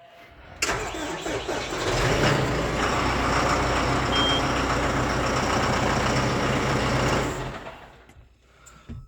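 A newer farm tractor's engine cranks and catches, then settles into a loud, steady diesel idle close by, running several seconds before cutting off, with no talking over it.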